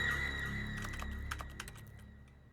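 Keyboard typing in The Stanley Parable video game, a run of quick, light key clicks over a steady electronic hum, starting faint and briefly growing busier before fading.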